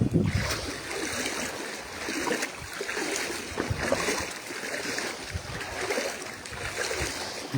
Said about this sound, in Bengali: পানির স্রোত উল্টা দিকে প্রবাহিত হচ্ছে